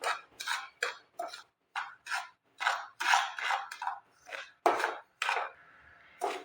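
A spoon clinks and scrapes against a pan as sugar is stirred into a suji barfi mixture, a series of quick, irregular, close knocks and rasps with short pauses between strokes.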